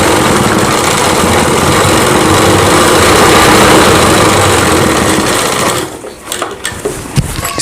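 An electric sewing machine stitches a Rajputi kanchali blouse in a loud, continuous whirring run that stops after about six seconds, leaving a few faint clicks and handling noises.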